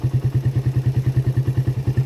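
A Suzuki Satria FU motorcycle engine held at high RPM, a loud, close, rapid pulsing buzz with an even, fast rhythm and no pauses.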